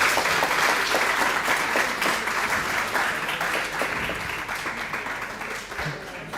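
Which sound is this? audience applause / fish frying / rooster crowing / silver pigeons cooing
audience applause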